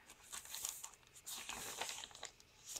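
Plastic bag tucked into a fall travelers' notebook journal as a pocket, holding small journal cards, crinkles and rustles close up in short irregular bursts.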